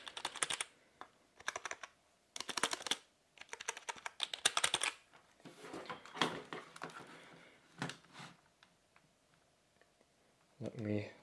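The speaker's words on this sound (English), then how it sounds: "you want to hear and sort of like get an idea of the key press and sound" Bursts of rapid typing on a MEMTEQ gaming keyboard, crisp clacky key presses in quick runs with short pauses between, close and fairly quiet.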